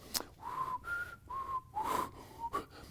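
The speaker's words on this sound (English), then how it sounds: "That's me whistling." Someone whistles a short, wavering tune of a few held notes with little breathy gaps, close and fairly quiet.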